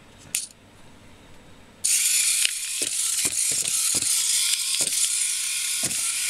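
An Arduino robot starts up with a steady whirring motor drone, broken by repeated sharp knocks and clacks as it bumps into obstacles and corners, close and fairly loud.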